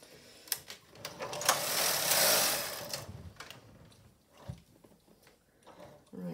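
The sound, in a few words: Silver Reed SK155 chunky knitting machine pattern knitting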